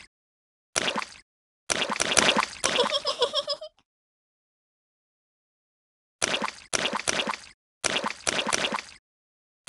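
Cartoon splashing in muddy puddles from a Peppa Pig video game, heard as bursts of wet plopping and squelching: one short splash, a longer run of splashes, a silent gap, then three more quick splash bursts.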